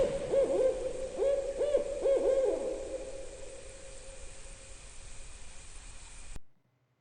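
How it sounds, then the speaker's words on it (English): An owl hoots at night, a few clear, fairly close calls in quick succession, then it falls quiet and only a steady hiss remains before the sound cuts off. "I thought that was pretty cool because the owl went off."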